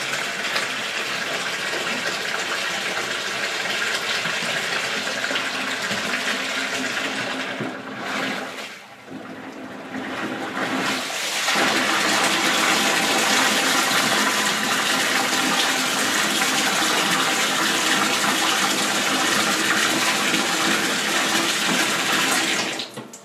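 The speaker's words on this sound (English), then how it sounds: "It's in a nice bath" Water gushing steadily into a bath prepared for a baby wombat being treated for mange, a loud continuous rush that dips briefly near the middle before resuming.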